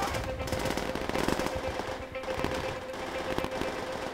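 Rapid machine gun fire in the World War II shooter game Call of Duty: World at War, a fast rattling burst of shots continuing steadily with game noise behind it.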